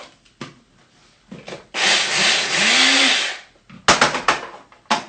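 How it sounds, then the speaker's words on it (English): An electric grinder whirring at high speed as it grinds a couple of tablespoons of peanuts into powder, a steady loud buzzing burst lasting about two seconds, bracketed by clattering taps and short bumps of the machine. "I've got a couple of tablespoons of peanuts, which I'm going to grind up."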